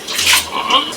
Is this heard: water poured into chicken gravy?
yes